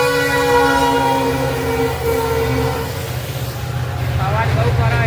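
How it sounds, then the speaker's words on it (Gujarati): A train rolls past nearby on a railway line with a steady rumble, and a tonal horn-like sound holds through the first three seconds. The noise continues loudly across the whole clip, with no voices heard over it. "જો રેલગાડી આવી જાય 1 વાગે જો."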